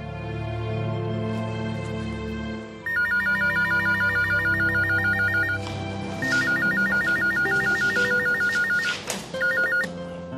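A mobile phone ringtone sounds during an outgoing call, a repeating electronic melody of regular beeping phrases with brief gaps, clear and fairly close, with no talk over it.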